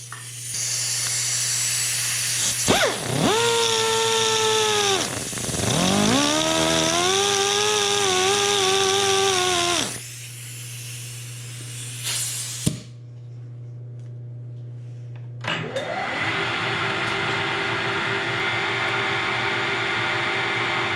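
Metal lathe in a home shop, center drilling with a solid carbide center drill held outside a chuck: a steady motor hum with rising and falling whining tones during cuts, pauses, then the drone resumes.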